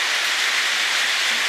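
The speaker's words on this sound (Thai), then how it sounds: "บรรยากาศตอนนี้ก็ฝนตก 3-4 มื้อแล้วครับ" Heavy rain falls steadily on a rural farmhouse amid rubber plantations in northeastern Thailand, producing a continuous, dense hiss with no breaks and no voices.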